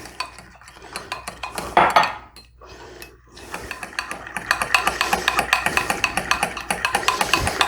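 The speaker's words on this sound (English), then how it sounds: "we can start to add our milk in" Milk goes into a slow cooker chicken stew and a utensil stirs it, with clinks and scrapes against the pot, a short pause, then quick repeated rhythmic knocks of the spoon, close and moderately loud.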